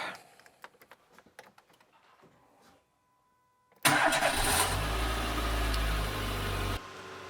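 A Renault Clio 1.2 16v engine cranks and catches after a few seconds of quiet clicks, then idles loudly and steadily close by before the sound drops off abruptly.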